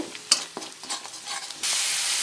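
Masala paste scraped and stirred in a pan for a Bengali payera-pholoi fish curry, several sharp utensil scrapes and taps, then a steady loud sizzling hiss once water hits the hot pan.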